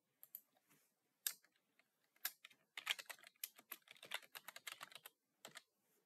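Typing text on a computer keyboard, a quick irregular run of close, crisp key clicks and taps with short pauses, fairly quiet and alone.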